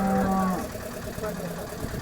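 A cow giving twelve to thirteen litres of milk lets out a low, drawn-out moo nearby at the Modnimb cattle market, fading into a busy outdoor murmur with faint crowd noise.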